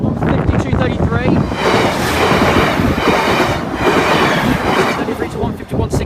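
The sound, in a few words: Northern passenger train passing a level crossing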